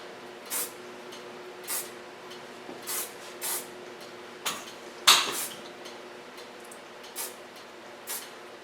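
Goldwell soft hairspray misted onto hair: around eight short, close hissing bursts, spaced roughly a second apart, with quiet pauses between and no talking.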